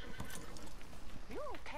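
A horse whinnies in the Red Dead Redemption 2 video game, a rising-then-falling neigh near the end, preceded by hoof clip-clops and mixed with other game sounds and a voice talking.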